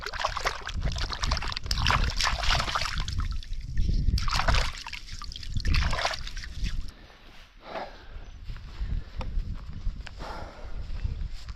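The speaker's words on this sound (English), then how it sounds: "Just giving him a good wash, so we're not eating mud around the fire later on." Water sloshes and splashes while a freshly caught mud crab is washed outdoors at a bush campsite, close and irregular, with splashy bursts that settle into quieter trickling.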